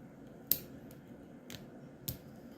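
Scissors snip a basket weaving strip in a few sharp, separate cuts, one crisp close snip followed by softer ones, in a quiet room without speech.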